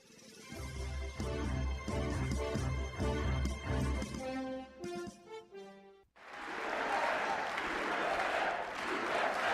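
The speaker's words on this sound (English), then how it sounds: "Applause and chants of USA were heard as Republican Kevin McCarthy secured enough" Crowd applause erupts in the US House of Representatives as Kevin McCarthy secures the votes to become Speaker in January 2023; loud, sustained cheering and clapping follows several seconds of musical tones.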